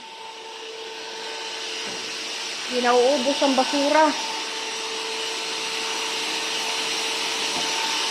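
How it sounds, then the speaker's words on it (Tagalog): A vacuum cleaner runs with a steady hiss and hum through a whole-house general cleaning while a person speaks briefly over it. "Kailangan iba-vacuum."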